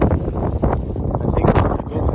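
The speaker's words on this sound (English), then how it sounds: "It is pretty windy." Strong gusty wind buffets the microphone in a broad desert valley of Death Valley near Surprise Canyon, a steady loud rumble with rising and falling surges throughout.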